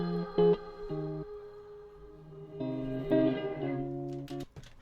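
Synth-like musical notes played backwards, each tone swelling in and cutting off abruptly, with a smeared, echoing character and no voices.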